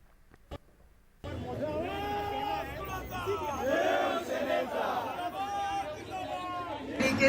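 A crowd of Shiv Sena workers outside Matoshree in Mumbai shouts and chants loudly together, a dense surging roar of voices that sustains throughout after a brief quiet start.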